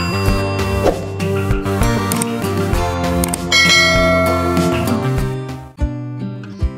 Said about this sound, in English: Teacher's bell.